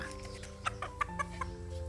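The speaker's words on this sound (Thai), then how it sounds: "เป็นไก่แจ้ลูกผสมชื่อแอนโทนี เพศผู้ และก็แอนนา" Bantam hybrid chickens, a male and a hen, clucking in a few short close calls over a steady low background hum.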